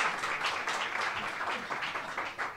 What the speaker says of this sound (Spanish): levantad el aplauso, aplaudíos vosotros